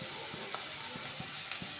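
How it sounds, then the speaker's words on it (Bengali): Potatoes fry in hot oil in a pan for a Bengali rohu fish and potato curry, giving a soft continuous sizzle broken by a few faint scraping stirs, close by and with no talking. "এবার আমি আলুটাকে একটু ভালো করে, আগে লবণ দেবো না, আগে ভালো করে ভেজে নেব"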